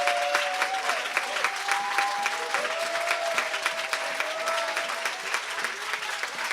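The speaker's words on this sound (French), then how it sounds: "Je veux que tu acclames Dieu très fort." Congregation at a church service applauding and cheering loudly and steadily for God, a dense wash of clapping with rising shouts and whoops throughout.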